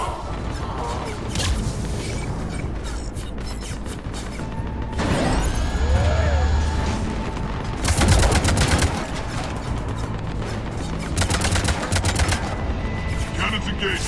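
Gunfire in the video game Mass Effect 3, with rapid bursts of automatic weapons and heavy impacts over a sci-fi combat soundtrack, loud and continuous, with voices talking at times.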